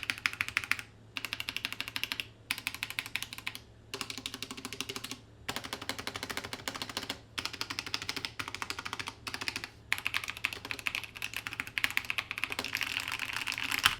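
Rapid mechanical keyboard typing with smooth linear keystrokes from Aotemu Red switches on a budget keyboard, close and steady in bursts separated by brief pauses.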